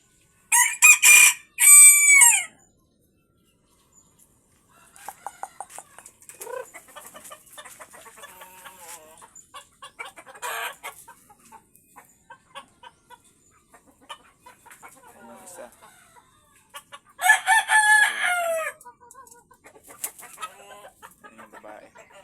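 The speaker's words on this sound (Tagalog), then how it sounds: "mga manok ko" Roosters crow loudly in bursts, one at the start and another later, with softer clucking and scattered chicken calls in between.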